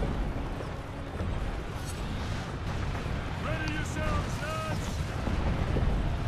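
A volley fires in Ryse: Son of Rome during a siege-tower battle, heard as heavy booming blasts layered over a dense, continuous roar of combat, with brief voices calling out partway through.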